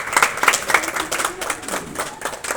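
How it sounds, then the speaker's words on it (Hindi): Scattered clapping from an audience at a departmental launch ceremony, a few hands beating at first and then a loose, uneven patter that carries on for a couple of seconds, with faint voices mixed in. "भाई ताली बजाओ"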